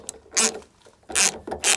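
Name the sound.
ratchet removing Torx T30 bolts from boot latch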